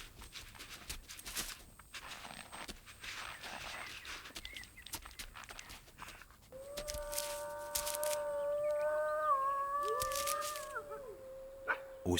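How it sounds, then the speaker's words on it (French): Wolves howl in long, wavering layered tones that start partway through and overlap, following rustling and faint thuds in the open, moderately distant and fairly quiet. "le hurlement du loup reste énigmatique"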